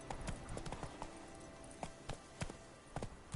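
Hooves of Roach, the horse in The Witcher 3, clip-clopping in an uneven trotting rhythm as it is ridden, close and moderately loud over a low background hiss, with no talk.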